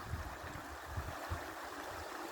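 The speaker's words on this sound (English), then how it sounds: "Nice little creek though." A small creek flows and trickles outdoors at a woodland metal-detecting site, a steady, soft rushing wash with faint low gurgles, heard alone.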